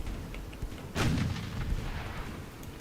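A torpedo launches from a warship in the naval game Ultimate Admiral Dreadnoughts, a single muffled boom with a whooshing burst standing out against a low, steady background rumble.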